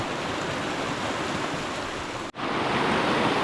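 Cherry Run, a forest creek, flows over a set of cascades: a loud, continuous broadband rush of water close by, briefly cut by a sharp dropout before resuming.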